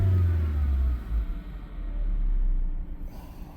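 A 2014 Ford Escape engine idling in a driveway repair session, a close steady low rumble with a slight swell partway through, heard alone without talk.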